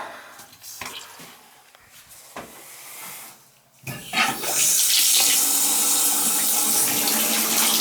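A leaking outside faucet: quiet handling noises first, then water bursts out about halfway through and runs in a loud, continuous hissing gush to the end.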